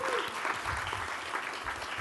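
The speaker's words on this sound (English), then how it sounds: "let's give a hand of applause for Ravi." An audience claps steadily for a colleague at a product conference welcome session, a dense, continuous wash of applause with no voices over it.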